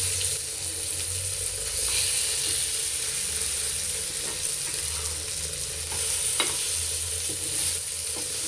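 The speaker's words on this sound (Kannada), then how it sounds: "ಇವಾಗ ಇನ್ನೊಂದು ಸೆಟ್ ತವಾ ಫ್ರೈ ಮಾಡ್ತಾ ಇದ್ದೀನಿ" Food frying on a tawa, a steady close sizzle with occasional light clinks and scrapes, continuous and unaccompanied by speech.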